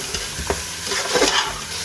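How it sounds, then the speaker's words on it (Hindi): Mutton with garlic and ginger paste and salt being stirred and fried over medium heat in a pan: a steady sizzle with soft scraping stir strokes, close up, with no talking. "अब इसे अच्छी तरह दरमियानी आंच पर भूनेंगे"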